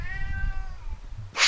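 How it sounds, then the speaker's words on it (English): A house cat cries with a drawn-out, wavering meow that fades away, over low background rumble, followed by a sharp burst of noise at the very end. "my cat is crying for me"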